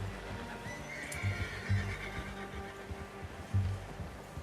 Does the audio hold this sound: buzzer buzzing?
no